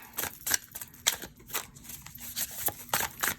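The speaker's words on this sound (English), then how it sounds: "I'm going to go ahead and shuffle that up" Soft, quick riffling and tapping of tarot cards being shuffled, a series of light irregular bursts at low volume with no talking.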